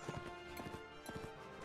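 Horse hooves clip-clop in the Mount & Blade Warband multiplayer game during a castle defence, a quick run of close, loud galloping beats over a dense game soundscape.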